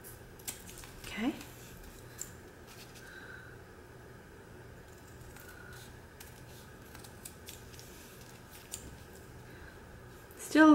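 Scissors snip through paper in quiet, close rhythmic cuts with soft clicking, a louder burst of cutting near the start, and a voice breaking in at the very end.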